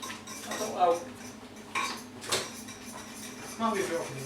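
A metal whisk knocks and scrapes against a pan while stirring in a kitchen, with a few sharp clatters and clinks spread across the moment and voices talking in between.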